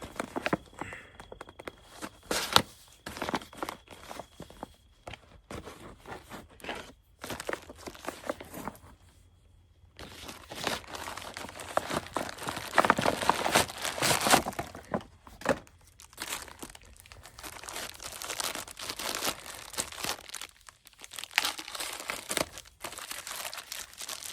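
Crinkly MRE ration packaging being cut and pulled open outdoors in the desert, with bursts of crackling, crumpling plastic and rustling handling noises, close and fairly loud, pausing briefly before resuming.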